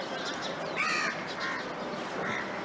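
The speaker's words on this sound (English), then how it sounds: "This is crow." A crow calls outdoors in an open natural place, giving three raspy caws spaced about half a second to a second apart, moderately distant over a steady background hiss.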